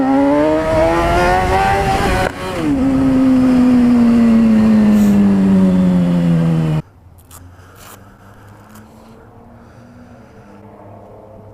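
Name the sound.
motorcycle riding off from the gas station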